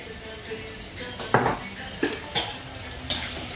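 Onion frying in a pan with salt and curry leaves, a continuous sizzle broken by several sharp stirring knocks of a utensil against the pan, close up with no talking.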